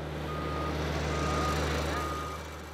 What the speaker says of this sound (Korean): 포크레인이 들어와 길을 냅니다.